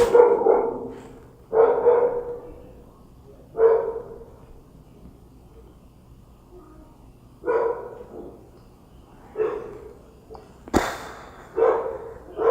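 A dog barks in about eight separate bursts, some single and some doubled, spaced irregularly, loud and fairly close, with quiet gaps in between.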